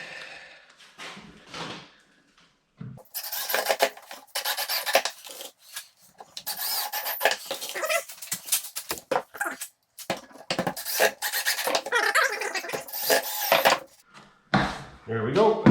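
Screws driven into a model Sambro lighthouse build as the house section is reattached, with repeated close rasping and grinding bursts in irregular spurts separated by short pauses.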